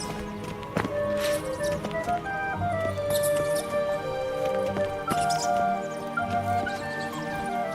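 Roach, the horse in The Witcher 3, gallops with quick, rhythmic hoof clops over steady game music and ambient sound, moderately loud and continuous.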